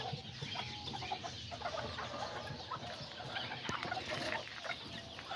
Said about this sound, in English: There's the two little tiny chickens, the white one and then that little black one.